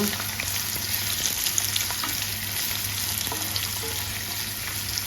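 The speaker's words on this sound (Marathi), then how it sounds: "हा आपण कांदा टाकायचा आहे। तो चांगल्या प्रकारे हलवायचा।" Chopped onion frying in hot oil for chole, stirred around the pan: a steady, dense sizzle with soft scraping of the spoon, close and continuous, no speech.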